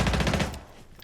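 Rapid automatic gunfire from Rainbow Six Siege rattles out in a loud, tight burst for about half a second, then quickly drops away to a faint room tail.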